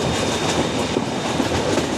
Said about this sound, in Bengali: ট্রেন আমাদের ঢুকছে ধীরে ধীরে কামাখ্যা শহরের দিকে